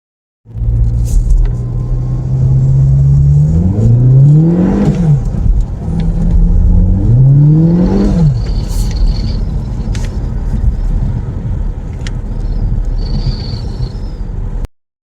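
A Volkswagen GTI with a slipping clutch is driven, its engine revving up repeatedly in rising sweeps while road speed barely follows, over a steady loud rumble and whir of the running car.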